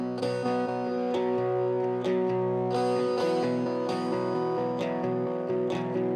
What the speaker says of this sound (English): So now the mixed guitars doubled sounds like this.